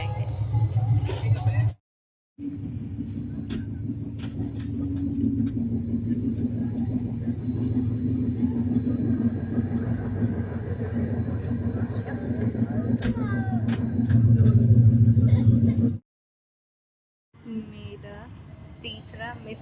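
Steady low rumble of a moving train heard from inside the carriage, continuous and fairly loud with a faint high whine, briefly cut out twice, and people talking over it.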